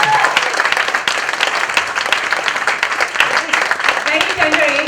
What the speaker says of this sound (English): can we have one huge round of applause for Tanveer?